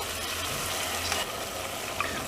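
Green masala hitting chicken frying in a pan over a medium-to-low gas flame, giving a steady broadband sizzle that runs evenly throughout, with no voices.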